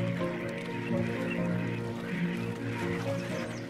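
Ducks quacking in water while being chased by hunting wolves in the northern wilderness, a dense, continuous chorus of overlapping calls at steady loudness throughout.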